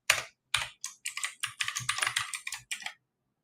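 A password being typed on a computer keyboard: a quick, uneven run of about a dozen close, crisp key clicks over three seconds, then silence, with no talking.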